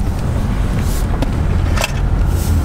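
An Infiniti G37 S coupe rolls over gravel, giving a loud, steady rumble of engine and tyre crunch with a few brief sharper crackles of stones. No one speaks.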